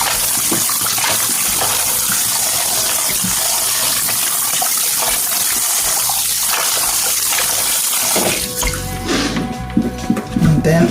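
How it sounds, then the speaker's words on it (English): Water runs steadily from a tap while raw chicken is washed in a bowl, a continuous gushing stream that later turns to splashing and sloshing as the pieces are handled. "I'm washing the chicken one more time"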